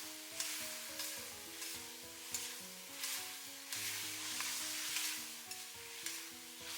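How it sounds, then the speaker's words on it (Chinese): Eggplant stir-fried with soy sauce, oyster sauce and garlic stems in a wok, a soft steady sizzle broken by rhythmic tossing scrapes, faint and close, with no talk. "快速翻炒均勻，把茄子炒香，炒入味"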